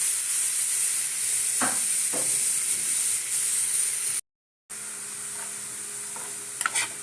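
Carrots stirred in hot ghee for carrot payesh, a steady sizzle with occasional scraping stir strokes, near and continuous, broken by a brief gap of silence.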